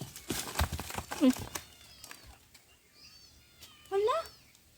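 A cat meow played from a cellphone that was pressed by accident: two short, tinny mews a few seconds apart, mixed in with footsteps on stones and people talking nearby outdoors.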